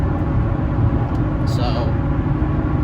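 Toyota Tundra on Nitto Exo Grappler AWT tires rumbling over a rough, jittery highway: steady loud low road and engine drone inside the cab, with talk over it.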